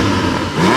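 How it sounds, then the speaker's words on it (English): Close, loud engine rev from a Porsche 718 Cayman GTS 4.0, a dense sustained roar whose pitch climbs slightly toward the end of the brief burst. "Let's give it a rev."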